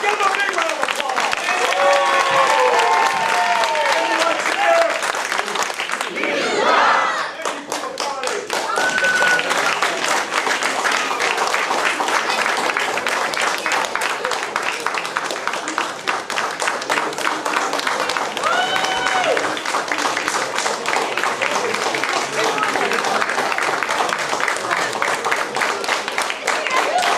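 An audience at a martial arts belt ceremony at the Family Martial Arts Center of Mount Dora gives long, dense, steady applause that fills the room, with voices talking over it.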